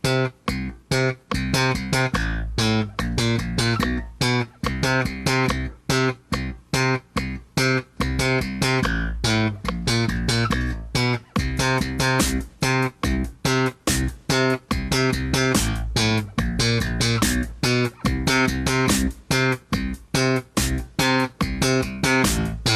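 A bass guitar plays a repeating line mixing long sustained notes with short clipped ones in a steady rhythmic pattern, loud and close with no voices.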